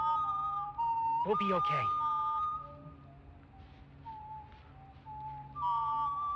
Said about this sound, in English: As long as they are whistling, they're not hunting.